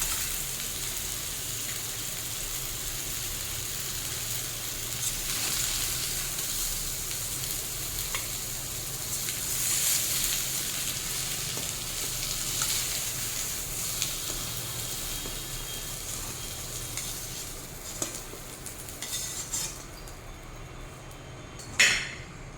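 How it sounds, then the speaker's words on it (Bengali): Raw jackfruit frying in oil in a kadai gives a steady, close sizzle throughout, with a faint clink of a utensil near the end. "দেখুন এঁচড়টা সুন্দর ভাজা হয়ে গেছে"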